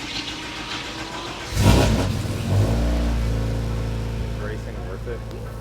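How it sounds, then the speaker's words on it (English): A race car engine fitted with a lightweight titanium exhaust blasts past with a sudden loud roar, then settles into a sustained droning rumble that slowly fades, with talking heard over it. "We have, the titanium exhaust that weighs about 30 pounds less than the other exhaust that we had on the car."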